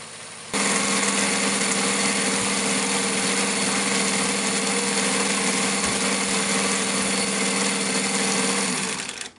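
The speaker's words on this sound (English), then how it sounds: "So here it goes, driving the receiver at 300 letters per minute." Wheatstone automatic telegraph receiver running at 300 letters per minute, a steady loud mechanical whirring hum with a fine rapid chatter that starts abruptly, holds evenly for about eight seconds, then winds down.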